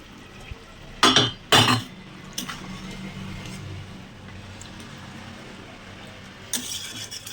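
Fried bhetki fish pieces going into a pan of simmering mustard gravy, with a couple of sharp metallic clinks and scrapes of utensil against pan over a low bubbling background, then another clatter near the end.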